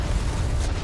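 A tank explodes in the video game Starfield as a short, loud, rumbling blast that fills the moment alone with no talk.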